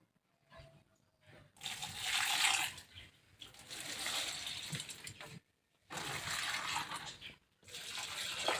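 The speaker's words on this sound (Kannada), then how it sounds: "ನೀರು ಗಿಡಕ್ಕೆ ಹಾಕ್ತೀನಿ" Water carried in a container is poured onto garden plants in several splashing bursts, separated by short pauses, fairly close, with faint voices in between.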